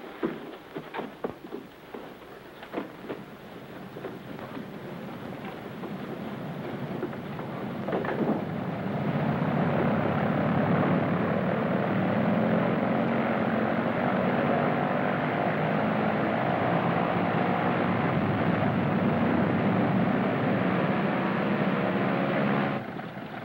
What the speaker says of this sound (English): In a German plane?